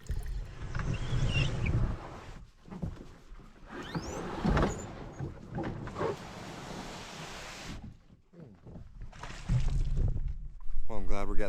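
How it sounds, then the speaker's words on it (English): Paddle strokes and water splashing from a canoe on Noganosh Lake on a headwind morning, with irregular swishes and knocks close by, intermittent gusts, and a person talking in between. "I'm glad we're getting this paddle out of the way this morning because we're already getting a bit of a headwind"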